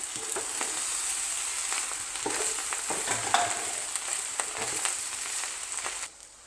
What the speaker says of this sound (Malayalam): സോയാ സോസ് ചേർത്ത് കൊടുക്കാം എന്നിട്ട് നന്നായിട്ട് മിക്സ് ചെയ്ത് കൊടുക്കാം